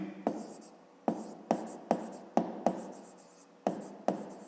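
Pen writing numbers in a school notebook during a fifth-grade maths exercise, a series of about nine short, crisp scratching strokes in an irregular rhythm, close and quiet with no talk.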